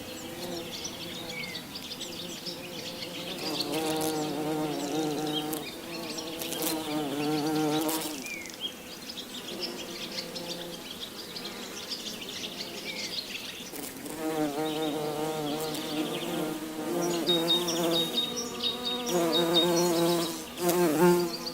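Stingless klanceng (Trigona) bees buzz in a steady, dense drone at a cultivation site, the hum rising and falling continuously with faint high chirps in the background and no voices.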